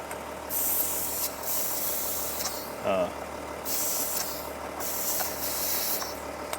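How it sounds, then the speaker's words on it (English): Short bursts of hissing air come from an air chuck pressed onto an Audi Q7 diesel tire, several spurts close by over a low background hum, with a brief clatter partway through. "I'm gonna check the air pressure in the tire."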